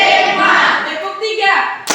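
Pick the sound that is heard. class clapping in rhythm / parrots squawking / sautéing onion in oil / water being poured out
class clapping in rhythm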